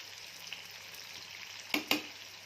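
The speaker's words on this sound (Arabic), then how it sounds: "المعلقه بقى اللي تقلبي بقى الفول والطماطم" Fava beans and tomatoes stirred with a spoon in a frying pan, giving a faint steady sizzle with two sharp spoon clinks against the pan near the end.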